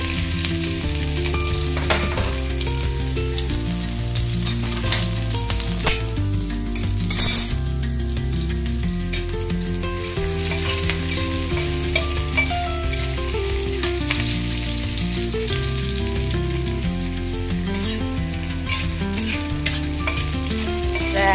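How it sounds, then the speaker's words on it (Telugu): Chopped onions sizzle and crackle steadily in hot oil for a ridge gourd and onion curry, a continuous, fairly loud frying hiss with no talk over it. "ఆయిల్లో ఈ ఆనియన్స్, ఉల్లిపాయలు వేసుకోవాలి."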